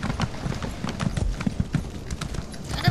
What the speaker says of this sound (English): you can hear my horse clack-a-da-clack-a-da-clack-a-da-clack